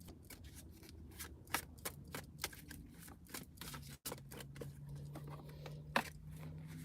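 Tarot cards shuffled by hand during a live reading, a steady stream of quick riffling flicks and slaps, close and fairly loud, with a low hum underneath.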